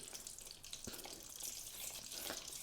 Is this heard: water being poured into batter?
yes